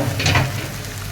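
Onions sizzling in hot oil in a home kitchen, a close, fairly loud frying hiss with a brief stirring rustle early on, no talking.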